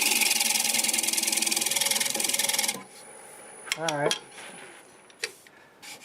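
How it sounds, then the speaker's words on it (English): A scraper rasps against a large English walnut turning spinning on a lathe, a loud steady gritty whir for a few seconds that stops abruptly, followed by someone speaking briefly over the quieter workshop. "It's scraping real nice"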